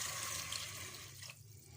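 About a glass of water is poured into a cooking pot while making chicken seekh kabab, a steady splashing stream that cuts off sharply near the end, leaving quiet.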